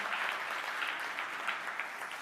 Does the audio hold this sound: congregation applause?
yes